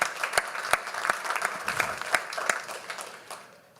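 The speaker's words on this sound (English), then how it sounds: "So round of applause for our bronze sponsor, Miss Alexandria Hatch." At a Libertarian Party of California convention, an audience applauds a bronze sponsor with brisk, dense clapping and a few sharp nearby claps, dying away over about four seconds.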